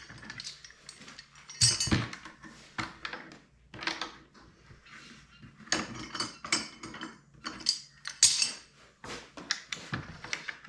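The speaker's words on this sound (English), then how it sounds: "So we're gonna go ahead and take this these corner clamps here off" Corner clamps come off a wooden frame holding a goat skin, giving scattered close clicks, clinks and knocking handling noises at moderate to faint level, with no talking.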